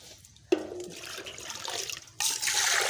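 Water is poured for washing, starting with a sudden splash followed by a steady running gush that swells louder near the end, close by with no voices.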